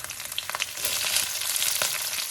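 Black cumin, garlic and green chili dropped into hot mustard oil, crackling and sizzling with sharp pops and spatters, close and fairly quiet, building into steady frying.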